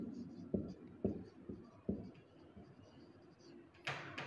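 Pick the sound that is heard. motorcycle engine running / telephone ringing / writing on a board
writing on a board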